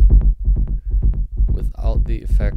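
An Elektron Syntakt drum machine pattern with effects applied plays a punchy, repeating low thump in a fast steady pulse, with metallic, warbling hits layered over the second half, close and loud.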